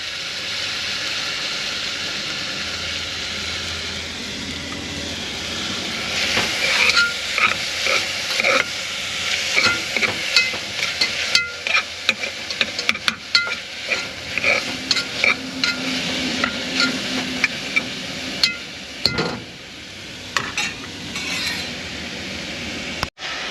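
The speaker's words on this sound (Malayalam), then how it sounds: "തക്കാളി മുളകും ഇഞ്ചിയും എല്ലാം ഇട്ട് ഇതൊന്ന് വാടി വന്നപ്പോൾ തക്കാളിയൊക്കെ ഇട്ട്" Tomato, chili and ginger sizzle in a pan up close, with frequent scraping and clinking of a utensil stirring them in irregular bursts over a constant frying hiss.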